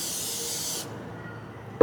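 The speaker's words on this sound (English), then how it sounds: "with some spray adhesive" Spray adhesive hisses from an aerosol can in one steady, loud burst that cuts off abruptly, followed by a quiet pause and then a sharp knock.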